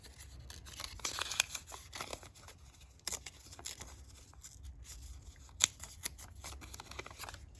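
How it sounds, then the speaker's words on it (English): A sheet of paper is torn by hand during crafting of a mini diorama, producing irregular ripping and rustling bursts with sharp crackles, close and fairly quiet over several seconds. "I think I'm just going to tear this one."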